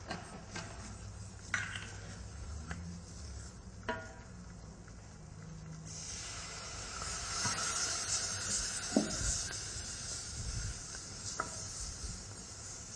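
Milk is poured into a cooking flour roux for béchamel, bringing a soft hiss and sizzle that rises partway through, with light clinks of a utensil against the pan throughout.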